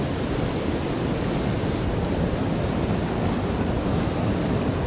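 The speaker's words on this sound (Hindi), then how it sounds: "पानी का बहाव बहुत ही तेज़ है यहाँ पे" Fast-flowing river water roars as a steady, dense broadband rush, loud and continuous throughout, with no voices, on a cold morning at Pathika.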